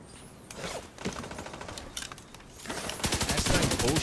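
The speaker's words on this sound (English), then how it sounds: "Bullets!" Rapid gunfire bursts in The Division 2, with a dense automatic rattle building over the last second, close and loud, following scattered mechanical clicks and creaks.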